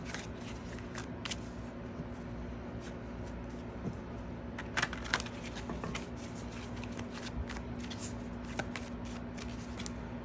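Oracle cards being shuffled by hand close by: soft, papery riffling and brushing at a low level over a steady background hum, with a few slightly louder flicks in the middle.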